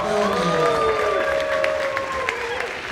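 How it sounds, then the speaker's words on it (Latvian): An audience at a folk dance group's concert in a culture centre applauds steadily, with a sustained wash of clapping under a voice that carries through the sound. "Vēlreiz aplausus Uguntiņai."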